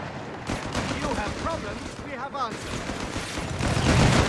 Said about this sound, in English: MG fire.